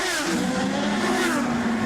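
IndyCar race cars racing on a wet, rain-soaked track at the Sao Paulo street circuit in 2011, engines droning loud and close in a continuous rising whine with spray hiss, no talk over it.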